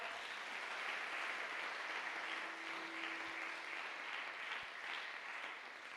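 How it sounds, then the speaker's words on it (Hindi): A church congregation breaks into steady applause during a sermon, a dense, even wash of clapping from many hands that holds at full strength for several seconds with no talk over it. "ताली नहीं बजाएंगे आप?"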